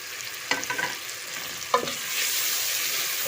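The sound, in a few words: frying spice masala with tomatoes and onions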